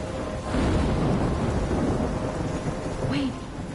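Storm in the video game Life is Strange: a constant wash of heavy rain with low thunder rumbling up after the first half second and holding, while a faint tonal sweep rises near the end.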